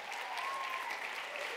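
Audience applause fills a Drug Policy Reform Conference hall in Washington, D.C., a steady, even wash of many hands clapping at moderate volume for the full stretch, with no voices standing out.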